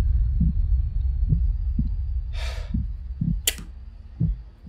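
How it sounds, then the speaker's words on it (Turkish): Heartbeat in a horror video game: soft low thumps repeating at a steady pace, with two brief brighter noise bursts in between. "Kalp sesi var."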